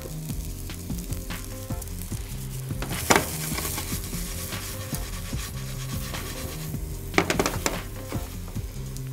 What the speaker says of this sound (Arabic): نزلته بس بكام نقطه الزيت اللي بيبقوا معاه دول على الطاسه على طول